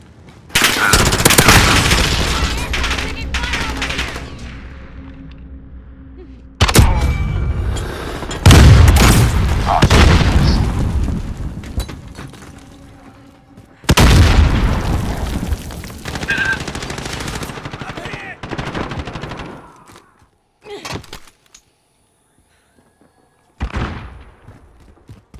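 Gameplay from Call of Duty: Modern Warfare fills with dense bursts of automatic gunfire and heavy explosions, loud and close, broken by short quiet gaps and sharp single shots toward the end.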